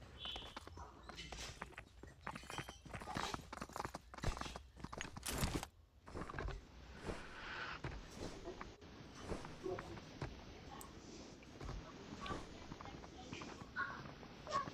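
Horse hooves clop in a video game as the mount slowly picks up speed, a faint irregular patter mixed with other game effects, people talking over it.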